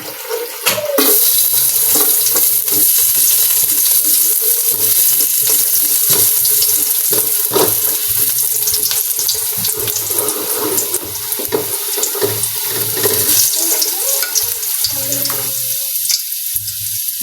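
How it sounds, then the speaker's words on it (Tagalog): Ginger and onion sauté in a hot pan for chicken tinola, giving a continuous loud sizzle with scattered clinks and scrapes of stirring throughout, no voices. "Ayan po, tayo po yung magigisa na."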